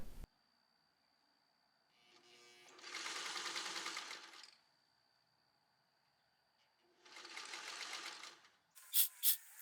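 A sewing machine edge stitches linen bias binding in two steady whirring runs of about two seconds each, with quiet pauses between them and a couple of sharp clicks at the end.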